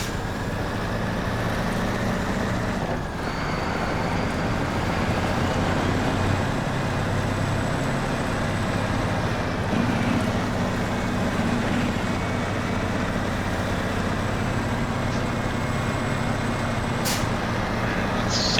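A truck engine in the SnowRunner game, a steady low rumble holding throughout with a brief hiss near the start and a sharp click near the end, no talking.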